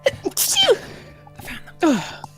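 A voiced sneeze performed for Peppy, a small pet character in a tabletop fantasy game session, comes as a squeaky, exaggerated human imitation in a few short bursts with a rising-falling pitch sweep, close and clear.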